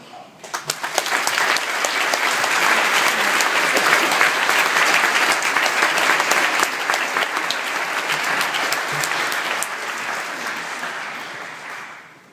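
Sustained applause from an audience at a medical school white coat ceremony, loud and dense for about eleven seconds, swelling quickly and then fading at the end as a speaker is welcomed to the podium.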